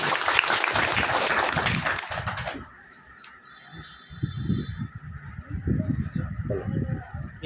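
Classroom students clap briefly and loudly after a quiz answer. After a short quiet gap, a voice speaks over a second burst of noisy, rough sound.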